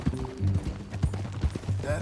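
Horse hooves clip-clop at a steady walking rhythm in the video game Red Dead Redemption 2, close and moderately loud, with voices speaking over them.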